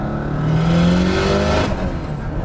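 An engine-swapped Subaru 2.5RS with a turbo revs hard in second gear, its pitch climbing quickly, then easing as the throttle lifts, loud and close.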